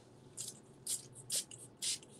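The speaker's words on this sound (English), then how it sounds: "Okay, now I'm going to get spray bottle." Four short, close hissing bursts from a spray bottle misting an art journal page, evenly spaced and crisp against a quiet room.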